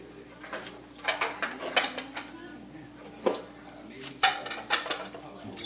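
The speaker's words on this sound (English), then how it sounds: "we're going to just get the pasta out like this into the strainer" Cooked fettuccine pasta being tipped from a pot into a strainer in a kitchen, with clattering metal knocks and scrapes of cookware in irregular bursts over a low steady hum.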